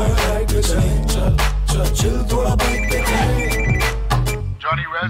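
A mobile phone ringtone plays loud and close, a bright repeating melodic tune that carries steadily for several seconds before cutting off, with no talking over it.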